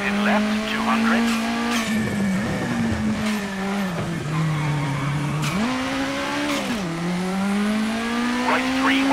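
A Ford Fiesta R5 rally car engine in WRC 9 on a Japanese rally stage drones loudly and constantly, its pitch rising and falling through gear changes, with tire squeal and a co-driver's voice calling pace notes over it.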